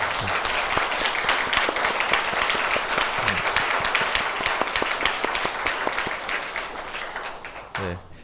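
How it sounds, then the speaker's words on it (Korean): A church congregation claps to welcome a visiting guest at a Sunday service, a steady round of applause with dense hand claps that fades slightly toward the end, a few voices mixed in. "여러분 따뜻한 마음으로 환영의 박수 보내주시기 바랍니다"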